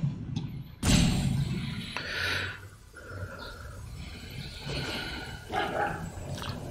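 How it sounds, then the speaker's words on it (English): Dogs bark somewhere in the background during an online card game session, a few scattered woofs and yips of moderate loudness mixed with snorting and breathing noises, no clear talk over them. "Dogs in the background."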